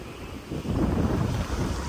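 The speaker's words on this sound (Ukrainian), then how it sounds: "Вітер супер, просто класний." Strong beach wind in Montenegro buffets the microphone in a steady, rumbling roar, with a surging sound like surf underneath.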